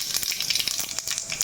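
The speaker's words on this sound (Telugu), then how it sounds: "ఆ పోపు దినుసులన్నీ దీంట్లోకి యాడ్ చేసుకుంటున్నాం" Cumin and mustard seeds crackle and pop in about four tablespoons of hot oil, a dense close sizzle with rapid sharp spatters, no voices.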